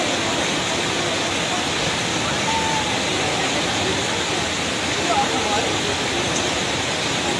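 Rare flood water rushes through Dunai in Dolpa, Nepal's Himalayan district, a constant heavy roar of turbulent water at steady loudness throughout.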